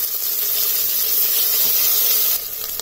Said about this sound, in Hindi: साथ ही साथ इसमें प्याज डाल देंगे।